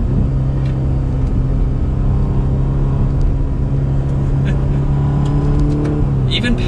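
A 2021 Ferrari Roma driven in race mode, its engine and exhaust giving a loud, steady drone heard from inside the car with shifting pitch as it pulls along.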